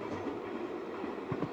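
Train ride ambience from a horror video game plays as a brief steady rumble with faint rhythmic clatter and a few soft thumps near the end.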